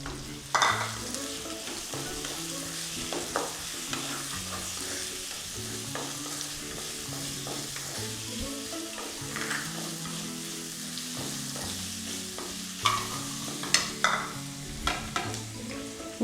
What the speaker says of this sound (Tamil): இப்போ நம்ம வெங்காயத்தை போட்டுடலாம்.